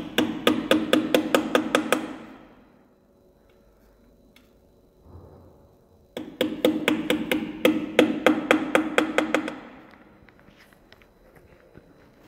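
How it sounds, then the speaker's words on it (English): Two bursts of rapid, evenly spaced hammer blows on metal, each around a dozen sharp strikes, hammering wheel balancing weights onto a rim, separated by a quiet pause with a brief clunk. "We are going to add it by using the hammer."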